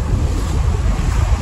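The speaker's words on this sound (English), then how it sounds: "Waves crashing in." Ocean waves surging onto the beach at Emerald Isle, a loud continuous roar of surf mixed with heavy wind buffeting the microphone, with no break in the noise.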